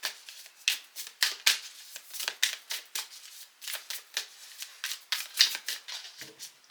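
A deck of Ancient Stones Oracle cards being shuffled by hand, close and crisp, in a run of quick riffling bursts with brief pauses between them and no talking.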